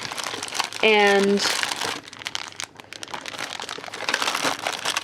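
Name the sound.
little plastic bags crinkling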